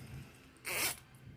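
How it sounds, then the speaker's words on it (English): A zipper on a sewn fabric zipper panel is pulled shut once in a single quick, soft zip, close by, with faint room quiet before and after. "I'm going to go ahead and zip this up."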